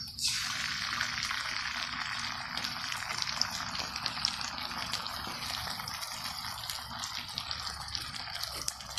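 Carrots sauté in a pan for fish escabeche, a soft, continuous sizzle with faint crackles and light stirring throughout, heard close and alone.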